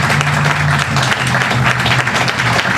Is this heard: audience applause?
yes